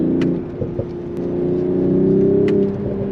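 BMW Z4 with the B58 engine being driven, a steady smooth engine drone heard from inside the cabin, rising slightly in pitch as it pulls, with faint clicks over the top.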